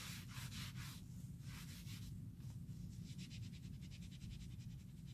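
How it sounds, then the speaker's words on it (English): A dirty case is scrubbed clean with repeated rhythmic rubbing strokes, soft and close, a steady brushing scratch with no talk. "I'm scrubbing a little bit more, a little bit harder in these spots that seem to have a little bit more dirt going on"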